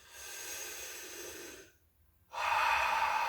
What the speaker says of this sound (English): I'm gonna take some deep breaths